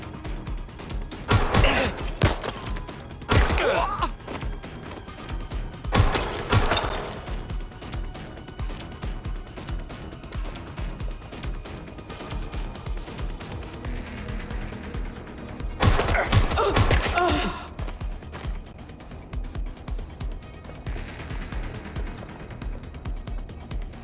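Gunfire in Watch Dogs Legion on Xbox Series X, several bursts of rapid shots spread over a tense stretch of mechanical clicks and game ambience, with little talk.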